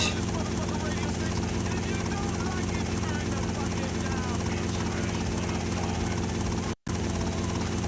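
A helicopter's steady, loud rotor and engine drone runs continuously in GTA Vice City Stories, with a brief dropout near the end.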